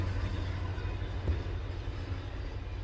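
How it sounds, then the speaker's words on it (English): Low rumbling freight train rolling past nearby, a steady broadband roar of rail wagons with continuous wheel noise and no break across the stretch. "Let the old freight train go back past."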